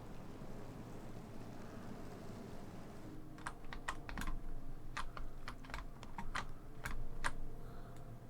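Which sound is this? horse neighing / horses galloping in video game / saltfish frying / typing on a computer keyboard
typing on a computer keyboard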